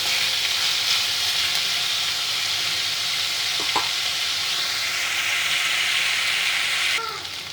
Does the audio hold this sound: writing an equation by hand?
no